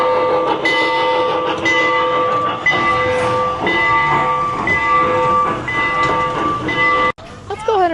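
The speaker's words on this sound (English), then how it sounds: "here is the train" A train passes near the Mountain Mile shops in Pigeon Forge, a loud continuous rumble with steady tonal ringing and rhythmic clacks, sustained throughout before an abrupt shift near the end.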